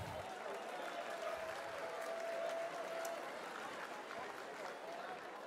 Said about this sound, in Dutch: dat is een applaus waard